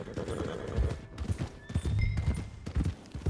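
Horse hooves clip-clopping in Red Dead Redemption 2, a steady close trot with a few whinnies and snorts over rumbling ambient game noise.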